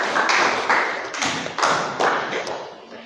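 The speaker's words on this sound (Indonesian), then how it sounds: "Ya, kita beri tepuk tangan buat teman kita." Students in an Arabic-language classroom clap for classmates who have just presented a group poster, the claps arriving in several short, loud bursts with brief gaps between them.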